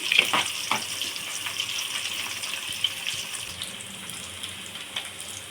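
Tomatoes sizzle in a pan of oil while a fish curry is cooked, a steady soft frying hiss with a few stirring scrapes and clicks, fairly quiet and continuous with no talking.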